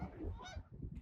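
Canada geese along the Lake Huron shore honk in a short, faint burst of several overlapping calls at a distance.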